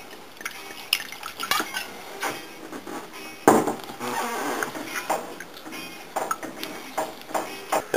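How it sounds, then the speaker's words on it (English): Liquid drips and splashes as reserved broth from cooked alligator is poured into a pot of soup and stirred, with scattered clinks and wet stirring sounds that are moderately close and not covered by speech. "And then the broth that I reserved from the cooking alligator, I'm going to add that. Stir that in."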